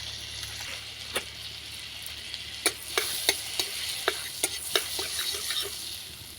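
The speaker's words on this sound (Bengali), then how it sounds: "সুজিটা আমি বাটারের সঙ্গে ভালো করে ভেজে নেব" Semolina fries in butter in a pan for a halwa, with a steady soft sizzle underneath and a series of sharp spoon scrapes and stirs spaced irregularly, close and clear.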